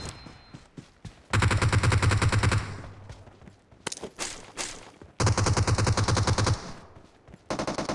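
Rapid machine-gun bursts crack loudly in a team deathmatch shooter game, long sustained strings of fire alternating with scattered single shots and short gaps, close and dominant.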